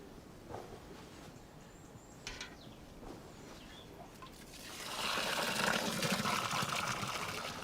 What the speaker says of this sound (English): So fill the hole with water and let it drain away.